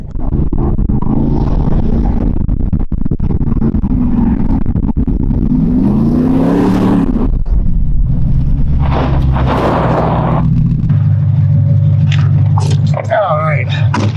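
A car's engine runs with a deep, rumbling drone that swells in revving bursts, fairly close and loud throughout, while someone talks over it.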